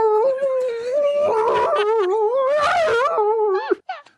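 A human voice imitating a Godzilla roar, pitched higher and more Chewbacca-like, sustained and loud with a wavering, growling tone before breaking off into a few short gasps.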